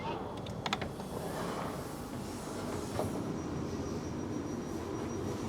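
Steady low rumble inside a moving Class 450 electric train, with a few brief clicks early on and a faint high whine running throughout.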